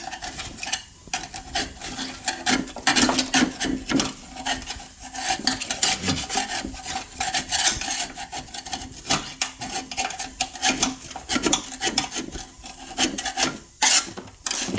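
Close, steady scraping and rasping as a putty knife works debris off the underside of a Cub Cadet mower deck, in repeated strokes with brief pauses.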